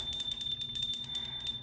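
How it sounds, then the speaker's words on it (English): Small bell rung rapidly in two bright, tinkling bursts, close and clear over a quiet room with no talk. "there's the little bell."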